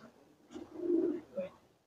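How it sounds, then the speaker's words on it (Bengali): Pigeons at a busy pigeon market in Khulna, a soft low cooing call rising and falling once near by, fairly faint against quiet background. "কিছু কবুতর দেখছি এখানে, অনেক কবুতর আছে"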